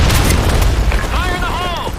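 A grenade detonates in Counter-Strike: a deep, rumbling blast fills the whole short moment. A game voice calls out over the tail of the rumble.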